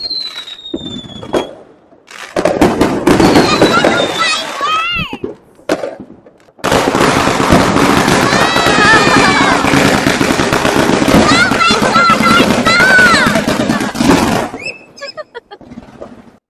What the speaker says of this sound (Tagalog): fireworks drive away bad luck and welcome good fortune